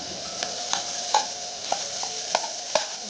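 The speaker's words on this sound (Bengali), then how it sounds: "ভালো করে মিশিয়ে নিচ্ছি" Potato chop filling with fenugreek leaves and salt being mixed in a pan: regular, distinct taps of a spoon against the pan, roughly every half second, over a soft background sizzle.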